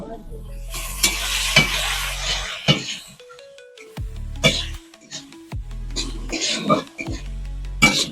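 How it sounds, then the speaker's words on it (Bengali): Potatoes fry in an iron wok over an open fire, with rice cooking alongside in a clay pot: a bright sizzle comes in repeated bursts with stirring scrapes, broken by short quieter gaps over a steady low drone. "আমি আলুটা আগে একটু ভেজে নেব"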